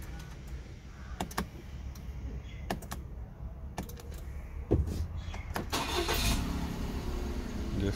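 Push-button start of a Suzuki Alto Lapin with a 660 cc engine: a series of sharp clicks and button presses, then a quiet engine catching and settling into a low idle near the end.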